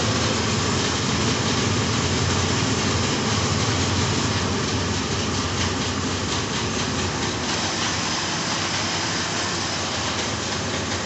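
A 1980 Triumph TR7 engine idles at a steady, continuous drone around 1,800 rpm, holding at an even level throughout, with no talking.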